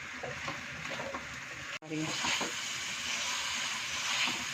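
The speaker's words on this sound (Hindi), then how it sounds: "इसको अच्छी तरह से हम भून लेंगे" Chicken karahi with spices stir-fried over high heat, a steady loud sizzle running throughout with stirring scrapes, broken by one brief drop near the middle.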